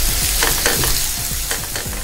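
Onions sautéing with salt and turmeric in a pan sizzle steadily and loudly up close, with quick stirring strokes scraping through the frying.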